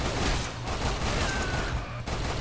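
Rapid continuous firing from an unlimited-ammo gun in the video game Lost Planet 2, a dense, loud stream of shots with a short pause partway through.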